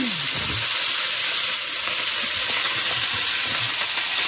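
Kimchi fried rice stirred in a hot pan gives a steady, loud sizzle and hiss with a few faint scrapes of the spatula, continuous throughout with no talking.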